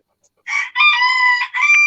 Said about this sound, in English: our Shirama rooster just cock-a-doodle-dooed